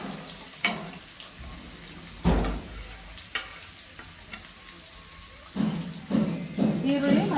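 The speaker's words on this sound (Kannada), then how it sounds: "ಎರಡೂ ಹಾಕ್ಕೊಂಡ್ಬಿಟ್ಟು ಈಗ ಫ್ರೈ ಮಾಡ್ಕೊತಾ ಇದ್ದೀನಿ" Onion, dried red chilli and curry leaves fry in hot oil with a low, steady sizzle, broken by louder clatters of stirring in the pan and a voice talking over it.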